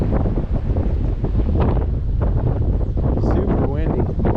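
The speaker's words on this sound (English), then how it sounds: "Super windy. Hope a tree doesn't fall on me today." Strong wind gusts buffet the microphone on an urban riverbank, producing a loud, continuous roaring rumble with rushing gusts throughout, while someone talks over it.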